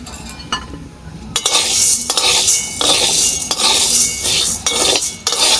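Dry sago pearls stirred in a pan, a rhythmic series of scraping sweeps and metallic clinks of a utensil against the pan, close and loud, with no voices.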